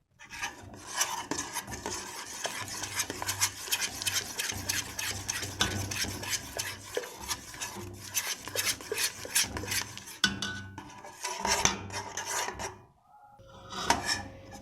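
Salt being stirred into béchamel sauce in a pan for a minced-meat pasta bake, giving a steady scraping, rasping stir of the utensil against the pan that continues almost throughout, with brief pauses near the end.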